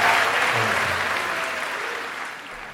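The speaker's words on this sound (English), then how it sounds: "So, can you please a big round of applause to my mentor?" An audience of music students applauds Malaysian jazz musician Michael Veerapen, a dense, even wash of clapping that slowly fades as it goes on.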